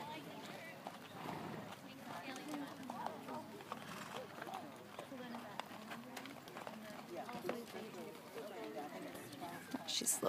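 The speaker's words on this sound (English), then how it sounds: "Trot, please. Trot your horses." Hooves clip-clop rhythmically as horses trot at a ranch horse show, heard faintly with a voice talking over much of it.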